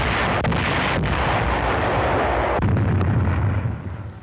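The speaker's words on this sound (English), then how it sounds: "U.S. artillery pounded Tinian, 3 miles distant." U.S. artillery bombarding Tinian in 1944 wartime footage: a steady, loud roar of continuous heavy gunfire and blasts with a few sharp booms, like a sustained barrage.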